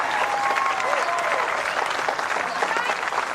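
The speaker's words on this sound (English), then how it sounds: "Family applaud, siblings." A family and siblings applaud a bowls shot in the 2016 World Bowls women's pairs final, New Zealand v Wales: a dense, steady patter of many hands clapping close by, with a whistle and cheering over it.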